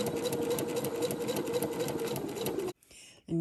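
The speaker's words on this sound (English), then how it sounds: "I am going to sew right to the end of that line, and then I will back tack like two stitches" A sewing machine stitches along a marked line on quilt fabric for foundation paper piecing, a steady fast mechanical whir running close and loud for nearly three seconds before stopping, followed by a brief quieter run.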